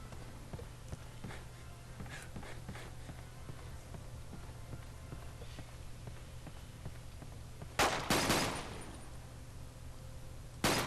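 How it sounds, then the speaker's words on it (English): Gunfire in the video game 007 Quantum of Solace: a quiet stretch of faint ambience and soft clicks, then loud sharp bursts of shots near the end, close and punchy. "I'm a sucker for gun sound effects in video games."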